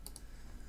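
Two quick, faint computer mouse clicks in close succession at the start, followed by quiet room tone.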